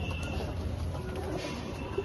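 Domestic pigeons coo softly in a pigeon-keeping setting, low murmuring calls over a brief stretch of steady background noise.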